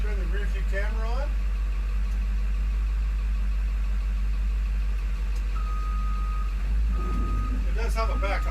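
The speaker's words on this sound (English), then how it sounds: "It does have a backup alarm." Backup alarm on a shuttle bus converted into an RV, repeated electronic beeps sounding over a steady idling engine rumble, with brief voice-like chirps at the start and end.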